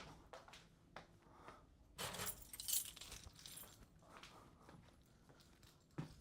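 A large, cluttered bunch of keys on a lanyard being handled, with a few soft rustles and clinks followed by a louder burst of metallic jangling in the middle, then quieter handling and a final clink.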